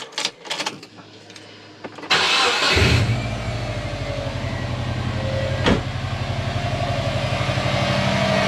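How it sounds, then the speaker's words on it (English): A 2004 Subaru Forester XT engine cranks briefly and fires up, then settles into a loud, steady, pulsing idle close by, with one sharp knock partway through. "Alright, first start up."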